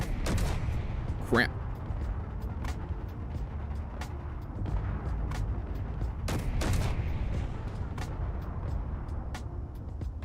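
Weapons fire aboard an old carrier ship being retrofitted in Space Engineers, sharp bursts cracking over a constant low engine hum, with a brief spoken exclamation early on.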